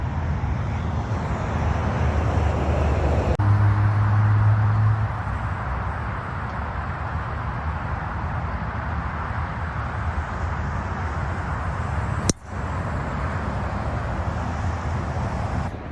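Steady traffic noise from cars passing on a road beside a golf course, a continuous low rumble with wind, broken by a brief sharp knock partway through.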